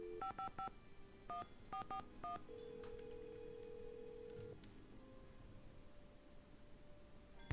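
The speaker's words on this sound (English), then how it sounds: "Now I need to call Franklin Rose." Keypad tones beep in quick clusters as a phone number is dialed in the Nancy Drew: Secret of the Scarlet Hand game, followed by a steady ringback-style tone, clear and close with no talking.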